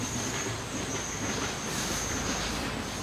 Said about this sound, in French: c'est un train?